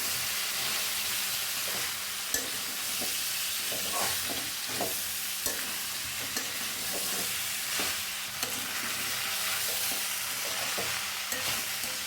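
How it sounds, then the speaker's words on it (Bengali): Potatoes, Malabar spinach and spices being sautéed in a pan, a steady sizzle running throughout with scattered stirring scrapes and clinks, close and moderately loud, no voices. "আলু পুঁই শাক আর মশলা এইগুলা একটু ভালো করে কষিয়ে নেব"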